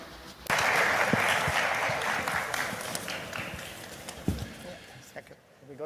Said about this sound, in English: We should give a round of applause to the Minister.